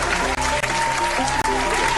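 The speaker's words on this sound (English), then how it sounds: "Round of applause for sure." A round of applause fills the space, loud and continuous for about two seconds with a few brief dips, while a sustained tone runs underneath.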